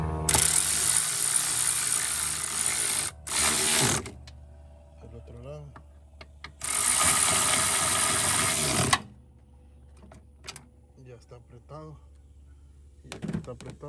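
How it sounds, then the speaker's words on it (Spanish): Ratchet tightening nuts on a car power brake booster: two bursts of fast, crisp mechanical clicking, with quieter handling noises and some speech in between. "Le ponen las tuercas y lo apretan de una vez."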